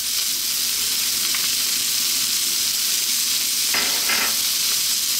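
Fresh chili and garlic ginger paste sizzle steadily in a hot pan for Indian-style cauliflower mushroom fried rice, a constant close frying hiss with a couple of brief stirring scrapes partway through.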